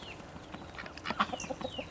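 Hens and ducks on a French farm, hurrying in to drink from a dewormer waterer, give soft clucks and short calls in a scattered run of several quiet notes.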